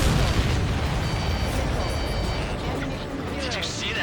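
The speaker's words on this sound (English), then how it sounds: "Did you see that explosion?" A loud, dense explosion rumbles in the Ace Combat 7 air-combat video game, a broad sustained blast with crackling debris over steady engine roar and faint tones.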